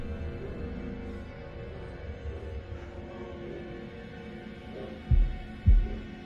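A slow, deep heartbeat pulse from the video game Man of Medan throbs under a low hum, ending with two heavy, close thumps near the end.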